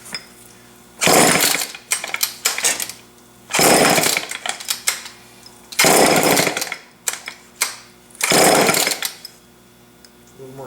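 A Homelite chainsaw engine sputters through an awful cold start, catching in four loud roaring bursts of a second or two each, separated by quieter idle gaps and clatter.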